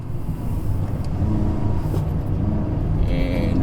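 A 2020 Perodua Bezza on 15-inch wheels cruises in second gear at low speed, its engine a steady low rumble heard from inside the cabin, with road noise building slightly toward the end.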